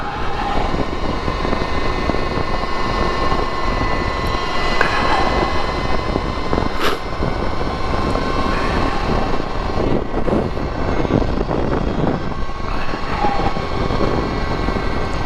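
A 2022 Energica Ribelle RS electric motorcycle accelerating under throttle, giving a steady, loud whine of motor and rushing wind that holds throughout with no pauses.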